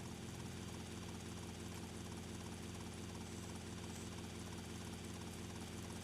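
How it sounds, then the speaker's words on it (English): A VCN news helicopter in the video game GTA Vice City flies with a steady, dense rotor and engine drone at low level, continuous and unbroken with no talk. "Get in the VCN heli that we left before, and drive off."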